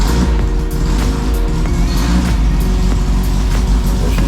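A 1982 Spectre Formula Vee race car engine runs loud and close after 12 years of sitting, a dense continuous rumble with rhythmic pulsing and slight surges of revving.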